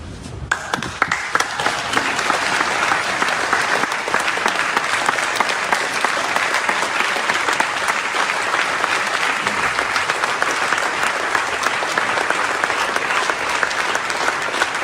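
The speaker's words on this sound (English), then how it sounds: "a standing ovation for that" A crowd gives a standing ovation at a public board hearing, with dense, sustained applause that starts abruptly and continues loudly and evenly throughout, with faint cheering mixed in.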